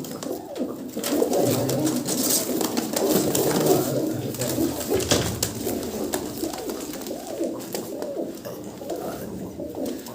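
Several imported pigeons coo continuously at close range, soft overlapping throaty rolling calls layered over a noisy loft background with no talking.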